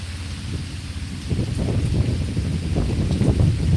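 Severe thunderstorm in Pittsburg, Kansas: heavy rain pours steadily while low thunder rumbles and swells, loud and close, with no voices.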